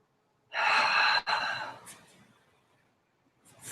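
A deep yoga inhale drawn through the nose or mouth during a morning breathing exercise, loud and close, lasting about a second, then easing into a softer, longer breath that trails off.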